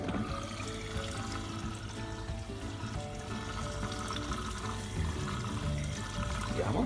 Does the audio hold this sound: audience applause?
no